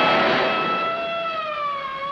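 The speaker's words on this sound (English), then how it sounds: "It's an ambulance." An ambulance siren wails loudly and close by, one long descending tone that slides downward as the vehicle passes.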